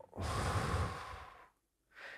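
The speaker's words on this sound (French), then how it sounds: "Alors, une respiration." A deep breath drawn in and let out during a guided breathing moment, a long breathy exhale close to the mic, then a short pause and the start of another breath.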